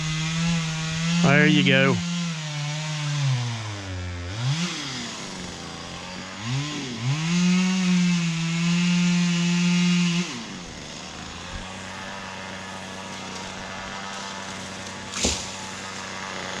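A ported Husqvarna 340 chainsaw revs hard and bogs while cutting small trees and snags at a cabin site, its pitch climbing and dropping repeatedly up close before settling to idle; someone speaks briefly.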